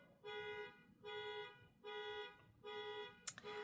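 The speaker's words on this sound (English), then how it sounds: "this crazy horn honking" A car horn honks outside in four evenly spaced, sustained blasts of about half a second each, moderately loud and alone, with a brief sharp knock after the last.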